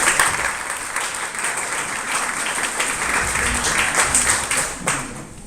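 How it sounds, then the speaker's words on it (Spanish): A seminar audience at a medical cannabis workshop gives the workers' union sustained applause, a thick, even roar of clapping that holds strong and then tapers off at the end. "quisiera, digamos, que diéramos un aplauso al sindicato por este espacio"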